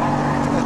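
A loud, raspy engine note from a TVR Tuscan 2 rear-wheel-drive sports car, a brief steady burst of strong exhaust drone heard alone.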